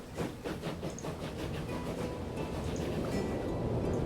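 Passenger train in the video game Transport Fever 2 running along the track, a continuous rumbling roll with rhythmic clickety-clack wheel beats early on, loud and steady, with no talking.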